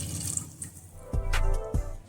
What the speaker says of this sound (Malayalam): അപ്പോൾ ചോർക്ക് ആവശ്യമുള്ള വെള്ളം ഒഴിക്കണം.